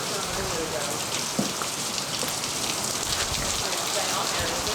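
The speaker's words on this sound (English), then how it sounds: "I'm hearing hail." Hail from a 2006 hailstorm in Hudson Bend, Texas, makes a dense, steady pattering close to the listener, with one brief sharper impact partway through.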